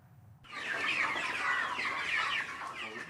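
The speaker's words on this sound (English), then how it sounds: "For Kingsley, this chicken coop is the most peaceful place he's been in the last few years." Chickens in a coop cluck and chatter in a busy, overlapping stream that begins abruptly and carries on at a fairly close, moderate level.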